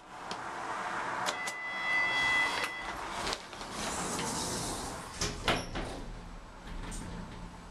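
Lift sliding doors at a train platform at Sandwell & Dudley open and close with a rolling mechanical rumble and a few sharp clunks and whirs, mid-distance, against steady station background noise.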